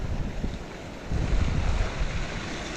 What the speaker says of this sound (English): it is very, very blowy. The wind's gathering strength